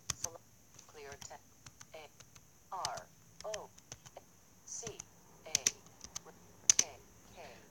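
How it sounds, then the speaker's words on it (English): Slow typing on a computer keyboard, sparse individual key clicks with irregular gaps, moderately close over a quiet background with faint intermittent tones. "Now I am typing fairly slowly"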